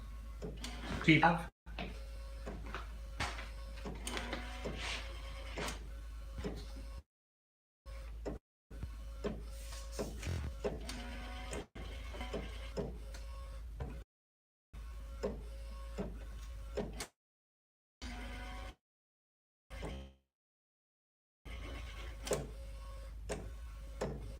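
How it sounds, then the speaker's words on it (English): A direct-to-garment printer lays white ink onto a shirt, its print head producing steady mechanical whirring with regular ticking clicks and short pauses between passes, fairly quiet and close. "that's printing out my white here"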